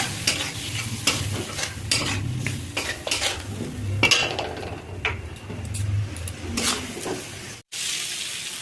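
Spice paste stirred in a pan with a splash of water for a Bengali parshe fish curry: steady scraping and clinking of the utensil against the pan over a soft sizzle, close and continuous.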